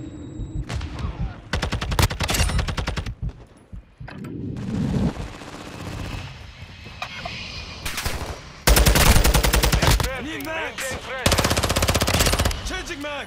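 Automatic gunfire in a military shooter video game, in repeated rapid bursts mixed with explosions, whooshes and other battle effects, loud and busy with shouted callouts under the noise.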